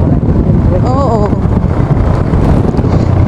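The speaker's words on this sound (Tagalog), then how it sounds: "Grabe ang lakas ng hangin dito." Strong wind buffets the microphone during a motorbike ride in the Rizal hills, a dense roaring rumble that runs throughout, with a brief whistling tone and a voice speaking over it.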